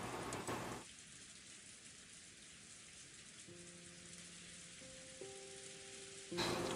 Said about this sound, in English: In the own land, the endless rain continued to fall.